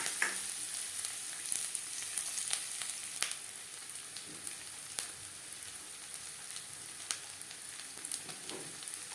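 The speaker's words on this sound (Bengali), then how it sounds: "নারকেল ভেজে নেব।" Grated coconut frying in oil in a wok, with a steady close sizzle and scattered crackles and pops continuing throughout without pause.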